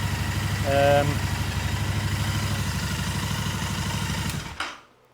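Royal Enfield Interceptor 650 motorcycle engine idling after an oil and filter change, a steady close pulsing throb that runs for several seconds and then shuts off.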